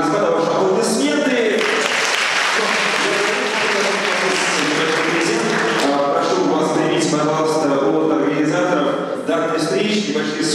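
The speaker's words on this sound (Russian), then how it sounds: "Господа, ваши аплодисменты." An audience at a talk at a university event gives a loud, dense round of applause that fills the whole stretch, with voices mixed in among the clapping.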